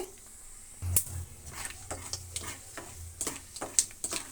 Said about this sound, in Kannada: ಮೂರು ಒಣಮೆಣಸಿನ್ಕಾಯಿ ಸೇರಿಸ್ತಾ ಇದ್ದೀನಿ ಇಷ್ಟೂ ಫ್ರೈ ಆಗಲಿ